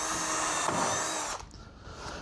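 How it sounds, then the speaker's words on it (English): A power drill with new bits bores into the wood studs of a DIY rear wall on a tiny home truck. The loud whine runs steadily and close for over a second, then cuts off, leaving quieter handling noise. "So the fancy new drill bits are going through"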